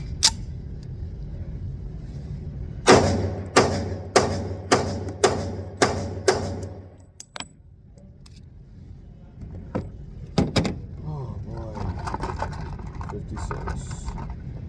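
Seven sharp shots from a Colt 1911 Classic pistol fire in a steady rhythm, each a loud crack with a short echo, then quieter handling clicks and a couple of softer knocks follow.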